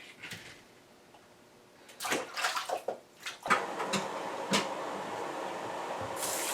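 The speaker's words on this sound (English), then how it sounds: "while this is filling up with cold water" A kitchen container fills with cold water from a tap during corn processing: a steady, rushing pour that starts partway through and keeps running alone, with a few knocks and clatters mixed in.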